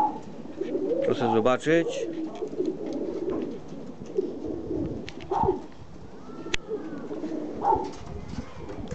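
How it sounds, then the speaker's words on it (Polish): Racing pigeons cooing in their outdoor lofts in France, several soft coos close by among light rustling and flutters, with someone speaking briefly. "Przedstawiam tu moje gołębniki, moje samczyki lotowe."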